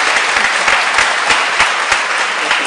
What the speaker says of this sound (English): Second round of applause now.